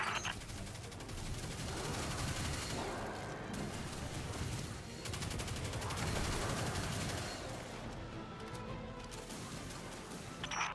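Rapid cannon and gun turret fire echoes through a Destiny 2 Forsaken mission. Dense bursts of shots run almost continuously, dip briefly and then resume, with a loud, crackling battle texture throughout.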